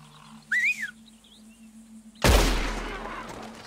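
A single loud rifle shot strikes an animal during a hunt in Red Dead Redemption, a sharp close crack with a long decaying echo, preceded by a whistled call and faint bird chirps in a quiet outdoor setting.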